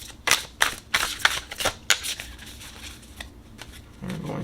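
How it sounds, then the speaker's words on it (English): Tarot cards are shuffled in a run of quick riffling bursts close by, each crisp flutter separated by short pauses, ending with a softer rustle. "We're going to shuffle, shuffle, shuffle."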